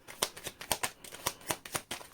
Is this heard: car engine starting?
no